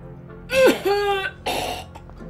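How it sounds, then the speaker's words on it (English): Two harsh, raspy coughs with a throat-clearing quality from a character in the video game The Lion's Song, blamed on smoke, separated by a short pause, over a quiet low hum. "Don't worry about the cough."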